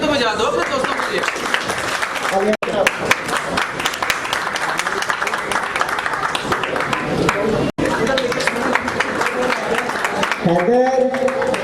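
An audience at a gym celebration claps and applauds loudly and continuously, with a few short breaks and people talking under the clapping.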